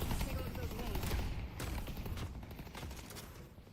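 Dense video game gunfire from a 2v2 lane fight, heard as rapid overlapping bursts of shots with sharp cracks and fluctuating intensity throughout.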